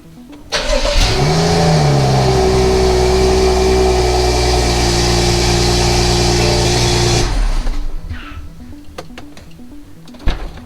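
A BMW F series car engine cranks and catches, then settles into a steady, loud idle with a brief rev, running for about seven seconds before cutting off and leaving quiet.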